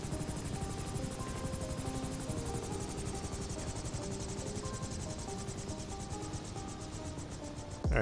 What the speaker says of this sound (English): I'm gonna try to put the helicopter down on this dirt road